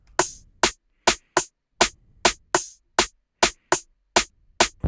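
A steady drum pattern of three layered snares interleaved with short closed hi-hat ticks, repeating evenly about twice per second, dry and upfront.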